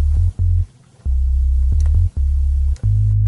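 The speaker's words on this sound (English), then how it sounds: "So I'm going to solo just my bass." Soloed bass track from a song mix, a loud deep sustained bass line with held notes broken by brief gaps, alone with no other instruments or voices.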